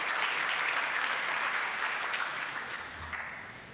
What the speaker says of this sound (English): Let's give our Rotarians a round of applause.